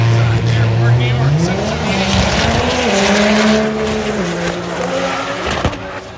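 A white GTR drag car makes a full-throttle run, its engine note climbing through gear changes in a loud, close roar before it fades toward the end under crowd and announcer noise.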